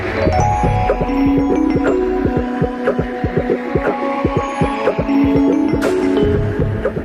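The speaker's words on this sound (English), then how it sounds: "As the machine's roller runs over the model, it guides a shaper to carve the wood exactly like the model." A copy shaping machine carving a wooden wind turbine propeller, its roller tracing a model: a steady mechanical hum with rapid rhythmic thumping cuts and tonal whine, loud and close, no voices.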